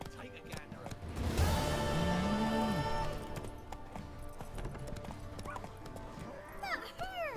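Roach the horse gallops in The Witcher 3, with rhythmic clip-clopping hooves and a whinny early on, all set over a musical background.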